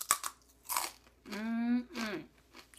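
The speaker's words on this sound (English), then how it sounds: "You can hear that crunch." A baked fat-free potato chip gives a few sharp crunches as it is bitten, close and distinct, with a voice making a sustained vocal sound in the middle of the bites.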